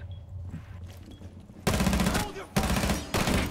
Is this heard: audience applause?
no